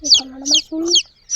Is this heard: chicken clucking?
yes